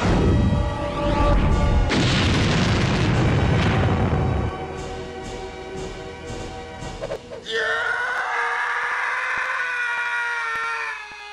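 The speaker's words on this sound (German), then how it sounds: "Explodieren." A loud video game explosion in Takeru: Letter of the Law booms and rumbles for several seconds, then fades into a lower crackle before a sharp ringing, screechy burst cuts in.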